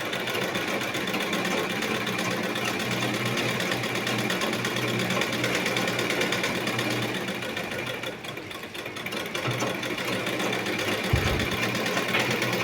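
A sewing machine runs steadily, stitching a frill onto a chudidar pant with a continuous, close, rapid mechanical whir and fine rhythmic clatter that dips briefly near the end before resuming.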